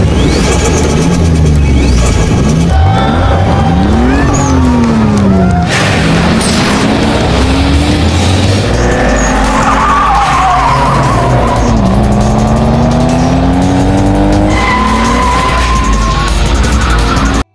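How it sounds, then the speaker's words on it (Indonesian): Two cars in a heated street race, loud engines revving with tires skidding and squealing in long sweeping screeches, plus a brief crash-like burst, continuous and close throughout. "Aksi balapan pun berlangsung sangat sengit, karena tentu aja kedua mobil yang dipakai terkenal dengan torsinya yang super duper add-on"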